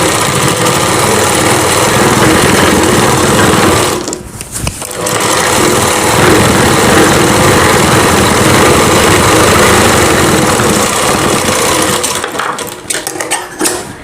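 A sewing machine stitches a Rajputi kanchali bodice, loud and close, with a dense continuous motor hum. It stops briefly and restarts once, then trails off near the end, with no speech.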